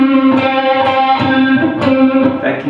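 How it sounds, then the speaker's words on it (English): An electric blues guitar with a distorted, effects-laden tone sustains a held note while the pick scrapes along the string, adding gritty rasping accents over the ringing pitch, loud and close. "Another technique you can add with these slides is to move the pick along the string with your right hand."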